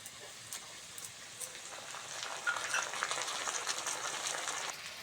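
Ginger-garlic paste sizzling in a pan with frying onion and potato, a soft, steady crackle that swells midway and stays at a moderate level.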